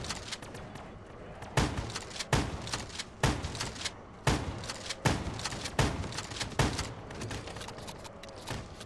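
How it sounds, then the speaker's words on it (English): Rapid shotgun blasts from Call of Duty Black Ops III on the map The Giant, loud booming shots fired every second or so over a constant noisy battle bed. "Hey, Unleash, you should check out my fire rate."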